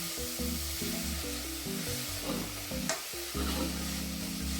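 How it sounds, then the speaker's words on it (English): Vegetables being stirred in a hot pan while they sizzle steadily, with scraping and shuffling strokes over a continuous frying hiss, close up and without talk. "You're going to stir it around so it doesn't stick to the bottom of the pan."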